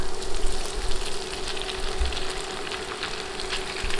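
Vegetables, egg and boiled pasta frying in a pan with green chillies, giving a steady close sizzle throughout with a few soft stirring bumps and no talking.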